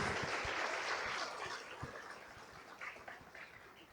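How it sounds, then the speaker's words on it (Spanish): Applause from a church congregation, fairly faint and distant, thinning out over a few seconds. "denle un fuerte aplauso al Señor"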